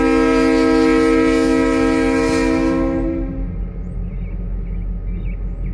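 BNSF freight train with BN locomotives and a caboose, sounding a loud sustained horn up close before the horn stops and the heavy rumble of the passing train carries on alone.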